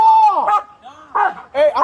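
A police K9 dog gives sharp, close barks and yips in a few loud bursts, mixed with an officer shouting commands at a suspect during an arrest.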